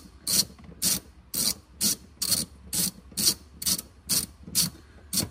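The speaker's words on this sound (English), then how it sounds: "just beware that you're gonna have to put a little bit of torque on them to get them off" Ratchet cranking loose tight seat bolts on a new Toyota Tundra, about eleven evenly spaced bursts of clicking pawl strokes, close and crisp with short pauses between each swing, no talking.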